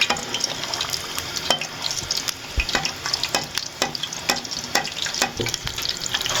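A small test piece of kofta mixture sizzles in hot oil, a dense steady crackle with sharp pops and spits scattered throughout, close and fairly loud with no talking.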